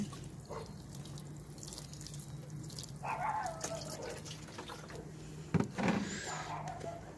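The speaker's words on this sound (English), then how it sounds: "gently water it." Water trickles and splashes gently from a watering can onto a pot of freshly planted seeds, a soft, close pouring sound with a brief louder splash near the end.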